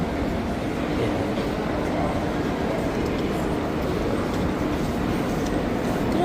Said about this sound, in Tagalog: Tayo sa loob ng Central Station.